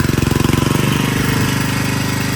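A diesel generator engine is throttled up, its loud, rapid knocking thump pulsing at first and then smoothing into a dense, heavy running roar close by.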